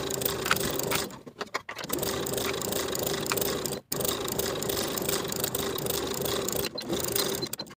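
A sewing machine runs steadily while stitching bias binding onto a shirt along a quarter-inch seam, giving a close, continuous whirring hum broken by brief pauses partway through.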